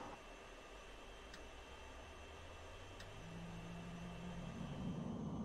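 Four jet engines of an Ilyushin Il-76 transport spooling up in the X-Plane 11 flight simulator, a steady broad whine and rumble that slowly swells, with a low tone rising near the end and a couple of faint ticks.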